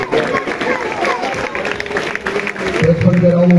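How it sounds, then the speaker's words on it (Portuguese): A church congregation in Rio de Janeiro applauds during a charismatic worship service, scattered clapping and crowd noise mixing with a voice speaking over it, swelling louder toward the end. "Aplaudam o Senhor Jesus"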